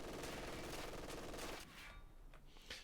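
A ZiS anti-tank gun firing in the strategy game Company of Heroes 2, heavy battle noise with overlapping shots that thins into sparser bursts, fairly faint overall.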